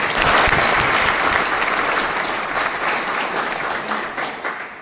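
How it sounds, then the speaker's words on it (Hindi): Sustained audience applause fills a business training session, dense and steady clapping from a sizeable crowd that gradually thins toward the end, with no talk over it. "इस प्लेटफॉर्म के लिए जोरदार एक बार तालियां होना चाहिए"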